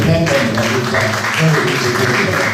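An audience breaks into applause for an engineer in an interview, steady close clapping filling the whole short stretch, with some voices mixed in.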